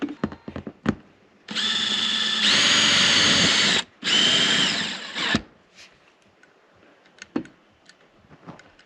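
A power drill drives self-tapping screws in two long, loud whirring runs separated by a short pause, with a few scattered knocks and handling noises before and after.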